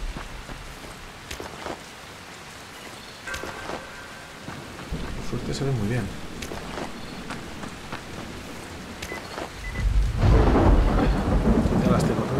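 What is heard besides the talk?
rain and thunderstorm in the video game Dying Light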